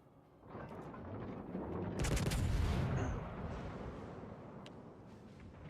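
Warship guns loosing HE shells in World of Warships: Legends, heard as one muffled, fairly quiet salvo boom midway through, over a steady low battle rumble.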